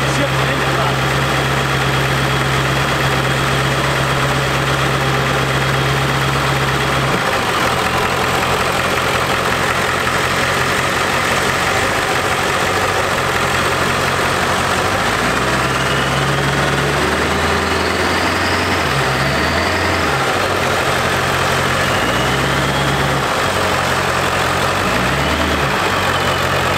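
A totaled Ford 7.3 Powerstroke diesel truck engine idles close by with a steady low rumble, its pitch dropping and wavering partway through, while a person talks over it.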